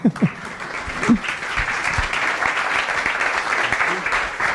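Audience applause at a tech talks event in France, steady clapping that swells after a few opening claps and holds at moderate level through the clip.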